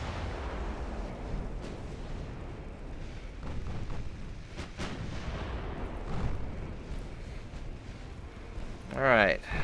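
Naval gunfire from warships in the Ultimate Admiral Dreadnoughts game: repeated deep booming salvos and sharp cracks over rumbling background, irregularly spaced, with a person talking faintly and a brief tonal sound near the end.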